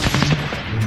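Rapid automatic gunfire in the battle-royale shooter Warzone, a loud close burst of several quick shots lasting under a second with no talk over it.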